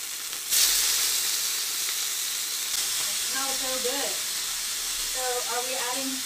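Shrimp sizzle and fry in a pan of pecan oil, a steady bright hiss that flares as food hits the pan. Someone talks over it partway through.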